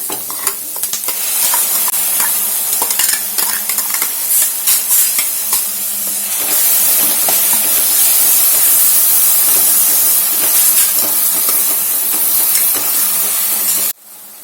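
Tomato paste made from three tomatoes hits a hot frying pan for matar palak paneer and sizzles loudly, a dense continuous hiss with stirring scrapes, close and steady throughout before cutting off abruptly.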